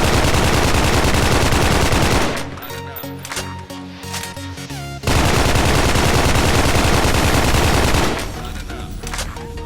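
M4A1 rifle fired in the video game S.K.I.L.L. Special Force 2, loud sustained automatic bursts that stop briefly for a quieter stretch of clicks and mechanical sounds, then resume and trail off.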